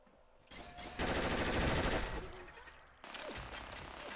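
Turret gunfire in Fallout 4: a short buildup, then a dense, loud one-second burst of rapid automatic fire, tapering into rattling shots and a renewed volley near the end.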